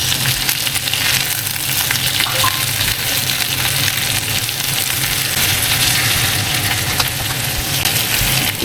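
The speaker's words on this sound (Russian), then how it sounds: "Мы ее переворачиваем и жарим дальше." Steady, close sizzling and crackling of liver frying in a hot pan, continuous and fairly loud throughout with no talking.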